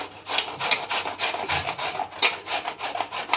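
Fresh cucumber is grated on a kitchen grater for a Marathi festival dish, giving a steady run of quick, close, scratchy rasping strokes with no talking.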